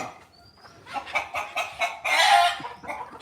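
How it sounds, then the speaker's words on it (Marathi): A rooster and hens clucking close by in short repeated bursts, with one louder squawking call near the end. "एकच कोंबडा आणि बाकी कोंबड्या"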